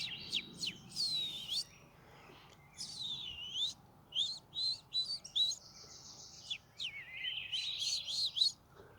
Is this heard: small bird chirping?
yes